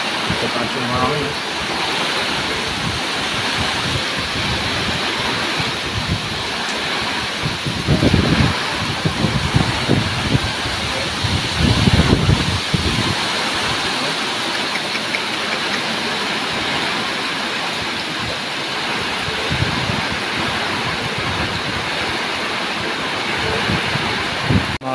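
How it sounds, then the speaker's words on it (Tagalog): Strong typhoon wind and rain during Typhoon Uwan in Camarines Sur, heard as a steady, dense roar of rushing air and pouring water with louder gusts swelling around the middle, continuous throughout. "Grabe lakas ng hangin guys. Matatas yung hangin."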